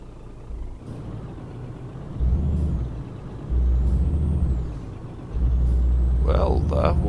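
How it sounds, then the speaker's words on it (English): A Scania truck in Euro Truck Simulator 2 rumbles with a deep, near engine drone that swells in three loud surges, and a sharp air-brake hiss comes late, with no talk over it. "Well, that was very nice sound on this truck."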